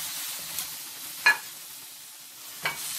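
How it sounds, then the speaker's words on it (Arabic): Onion and minced meat stir-frying over high heat for lasagna, a faint steady sizzle with two brief scraping stirs against the pan. "لازم أقلب اللحمة علشان ما تكتلش مني"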